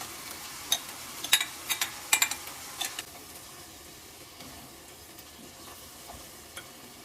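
Lasagna filling browning in a pan, giving a steady low sizzle with a few brief louder crackles and clicks early on, then settling into a quiet, even fry.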